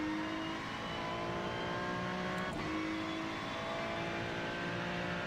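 A Ferrari GT3 race car in iRacing drones steadily at high revs, a continuous engine whine with a brief shift-like blip midway, close and constant with no talk over it.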